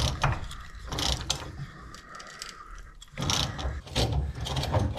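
A wrench worked back and forth on a rusted, seized body bolt of a VW Beetle, giving loud, close ratcheting clicks and metallic grinding in two bursts with a quieter scraping stretch between.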